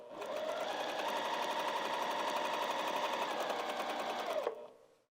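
A sewing machine stitches elastic onto fabric for lounge pants, running in one steady, fast, rattling burst of about four seconds close by, then stopping abruptly into silence.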